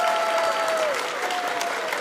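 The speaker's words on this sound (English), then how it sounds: "So one last round of applause for everybody that's joined me today." Panel audience at Midwest FurFest, a large furry convention, gives a loud, dense round of applause, continuous clapping that stays strong for the full two seconds with a faint tone running underneath.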